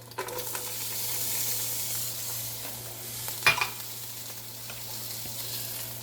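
Onions sizzling in a Power XL Stirmax multi-cooker, a steady close frying hiss with a brief clattering knock midway and faint crackles, with no talk.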